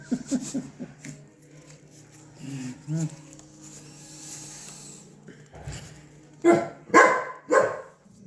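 A dog barks repeatedly in short bursts, mixed with people talking and laughing during a game of tongits cards, with a louder run of barks near the end.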